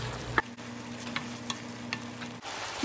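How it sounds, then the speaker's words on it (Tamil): Tomato masala curry bubbling in a covered pan with water, a soft steady simmer broken by occasional faint pops and light clinks, with a low hum running underneath. "இதை மூடி வச்சு ஒரு 5 நிமிஷம் கொதிக்க விடலாங்க"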